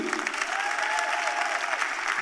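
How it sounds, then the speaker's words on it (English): Audience at an education town hall meeting bursts into steady, dense applause, many hands clapping together at close range for the full couple of seconds with no talk over it. "Clap it up for you."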